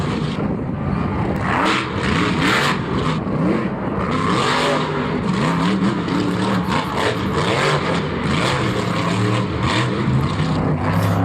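A loud monster truck engine at Monster Jam Orlando roars continuously, with revving surges rising and falling over a dense rumbling background, no voices.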